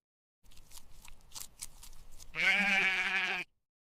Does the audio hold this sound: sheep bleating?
yes